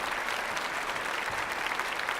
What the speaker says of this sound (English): Let's give her a round of applause, ladies and gentlemen.